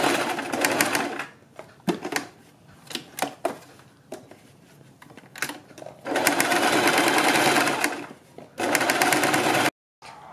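Sewing machine stitching a neckline on a garment: bursts of fast, steady whirring stitches, some long and continuous, others short and stop-start with clicks between, close and clear.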